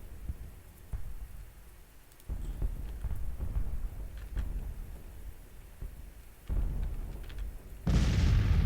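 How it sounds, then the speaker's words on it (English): Artillery fire in the Civil War strategy game Grand Tactician, a dense rumbling barrage of booms rolling on continuously, with heavier surges of thunderous impacts and a loud burst at the end. "Got a lot of artillery coming down on this guy."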